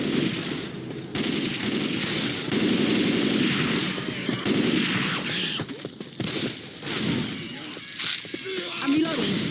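Grenade launcher frag rounds firing in the Left 4 Dead 2 video game, dense continuous blasts and gunfire filling the scene, with a voice talking over the chaos.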